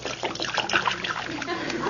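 Self-polishing liquid floor wax pours steadily onto a floor, a continuous close splashing and splattering trickle lasting a couple of seconds.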